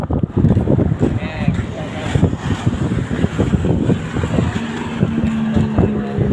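Loud, gusty wind buffets the microphone with a steady low roar, while people talk over it.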